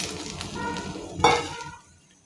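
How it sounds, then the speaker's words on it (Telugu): Okra pieces tossed into a hot pan with turmeric, a close sizzle that swells as they land, with a utensil stirring and a brief clink before it fades away. "పావు స్పూన్ పసుపు దీంట్లోనే బెండకాయ ముక్కలు వేసేసుకోవాలి"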